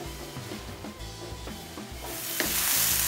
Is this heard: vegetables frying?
yes